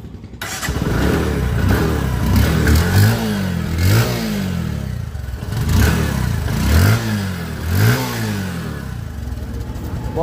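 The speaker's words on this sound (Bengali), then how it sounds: "গাড়ির একটা সাউন্ড শুনে আপনাদের দেখাবো।" A second-hand Bajaj Discover 125 motorcycle in fresh condition idles up close, then revs several times in repeated rising and falling bursts before settling back to a steady idle.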